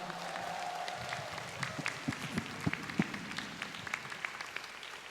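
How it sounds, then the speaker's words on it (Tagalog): A large assembly at a religious gathering claps in praise, a faint, distant wash of applause with scattered louder claps and some crowd murmur underneath. "Parang papuri lang kay Father Benny yung inyong palakpak."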